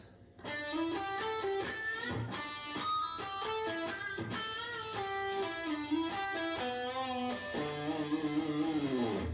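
Electric guitar plays a solo phrase, a steady run of sustained notes with bends and vibrato, clear and continuous with no talking.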